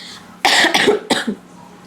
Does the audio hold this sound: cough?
yes